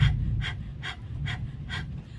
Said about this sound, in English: stick the tongue out and breathe powerfully through the mouth like the dog would when it's panting